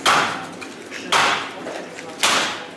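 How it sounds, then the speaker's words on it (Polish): Three heavy hammer blows smash into a plasterboard wall, each a sharp crunching impact about a second apart, with debris rattling after. "Młotek"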